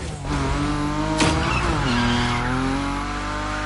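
A Rocket League car engine revs while tires squeal through a long drift, with a sharp skid burst in the middle.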